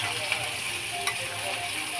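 Vegetables for a vegetarian dish sauté in a hot pan with a constant loud sizzle, while a spoon stirs through them with a couple of small knocks.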